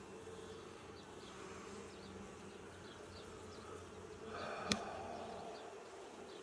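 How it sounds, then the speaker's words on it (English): A dense swarm of bees hums steadily nearby, with a brief sharp tap or click near the end. "if there's a bunch of bees bunched up, you just lightly blow on them"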